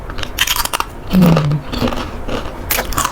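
Crunchy purple sweet potato snack sprinkled with sesame seeds bitten close to the mic, a sharp crisp crunch followed by chewing and brittle crackles, with brief voice sounds mixed in.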